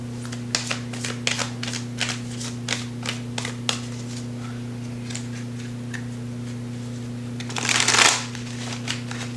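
Oracle cards are shuffled for a tarot reading, giving a series of crisp, quick riffling clicks in an uneven rhythm, followed by a brief louder burst of card flutter, all over a steady low electrical hum.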